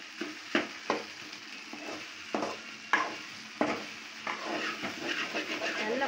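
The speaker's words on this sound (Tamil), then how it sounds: "பாருங்கள் உருளைக்கிழங்கு நல்லா வதங்கிருச்சு." Potatoes sauté in a pan for a South Indian potato poriyal, with a soft sizzle under a string of distinct spatula scrapes and knocks against the metal, close and unhurried, no one speaking.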